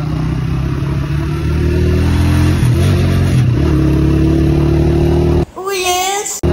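A motorbike engine runs at a steady, loud drone as a man rides it through town, with wind and road noise, then a brief rising rev near the end.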